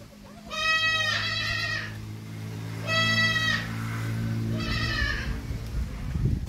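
A mother goat with newborn kids gives three loud, close bleats spaced a couple of seconds apart over a low steady background hum.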